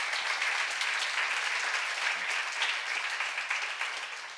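Congregation at a church seminar breaking into steady, dense applause that fills the room evenly and fades slightly toward the end, with no voices over it.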